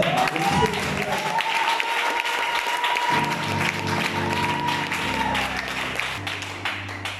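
A church congregation bursts into applause and acclamations to bless the Lord at an evangelistic service, dense clapping running throughout beneath sustained tones and a voice carrying over the top.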